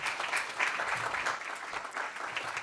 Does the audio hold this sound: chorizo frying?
no